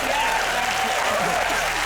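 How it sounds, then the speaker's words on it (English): Studio audience at a British comedy panel show bursting into dense, sustained applause and cheering, loud and close throughout with no gaps. "Well, listen to the crowd."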